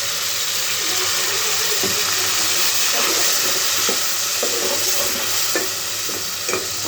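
Garlic sizzles and fries in a home kitchen pan, with a steady hiss throughout and scattered stirring scrapes and clicks close by; no talk.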